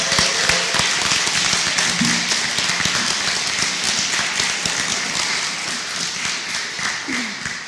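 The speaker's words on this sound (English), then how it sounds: "could we have a big round of applause for Eva Bartlett" An audience at a political speaking event in London applauds a speaker, dense sustained clapping from many hands that fades slightly toward the end.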